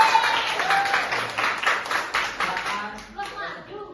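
Classroom students clap for a group about to present, a brisk burst of many hands clapping close by that tapers off into scattered claps, with a voice speaking over it.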